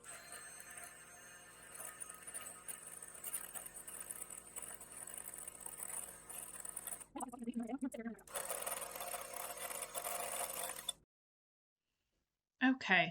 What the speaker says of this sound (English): We're gonna beat the egg whites.